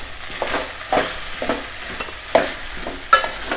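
Spiced Konkan-style phodnicha rice is stirred and fried in a pan over low gas, with steady sizzling under repeated scraping strokes of a spoon at an uneven rhythm.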